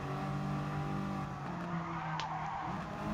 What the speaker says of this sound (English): I'm just racing on Mount Panorama against the apparently Gran Turismo Sophie AI for about 3 laps